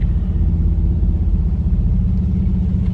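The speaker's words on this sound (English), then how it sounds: "Is that a car?" Car on a wet road during a rainstorm, a steady low engine rumble, close and fairly loud, lasting the whole stretch with no talking.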